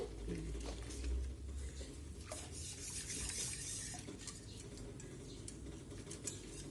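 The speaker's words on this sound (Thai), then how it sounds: "ใส่ลงไปเลยแล้วก็คน คนให้เขาละลายนะคะ" A flour mixture stirred in a bowl until it dissolves makes a faint, continuous scraping and swishing, low and even, with a few soft ticks of the utensil against the side.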